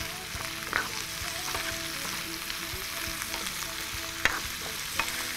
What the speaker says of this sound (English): we're going to lightly stir fry our pepper in this oil with some chili